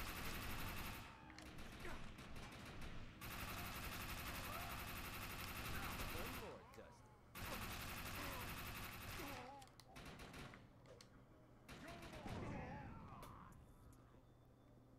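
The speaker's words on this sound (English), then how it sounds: "Try out our new gun." Rapid automatic gunfire from a new gun in the video game Defiance 2050 crackles in long sustained bursts with brief pauses, loud and dense, while a voice talks over it.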